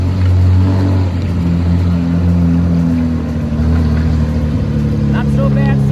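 A Toyota Cresta street racer with a rough-running engine and spinning tyres drives along, its low engine drone steady and loud from inside the car, with voices heard at times.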